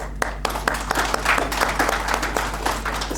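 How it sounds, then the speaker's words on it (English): Audience applause at a Goa NGO community meet-up, a broad wash of many hands clapping with some sharper individual claps standing out, steady and fairly close for about three seconds. "So applause for you all."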